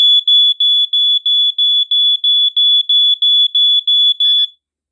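American Sensors Dicon SA388 smoke detector sounding its alarm: a loud, shrill high-pitched beep repeating in a slow steady pulse of paired chirps, about a dozen in a row, close and alone before stopping.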